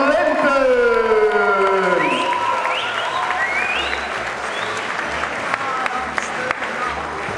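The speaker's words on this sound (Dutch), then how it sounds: "Dames en heren, uw applaus en waardering" Audience applause fills a boxing event hall between team introductions for an Amsterdam versus Rotterdam match, loud and sustained, with a voice over a PA system at the start before the clapping settles into steady crowd applause.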